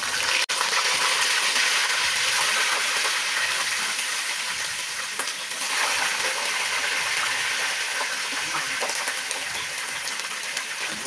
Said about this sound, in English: So here I'm frying the chicken.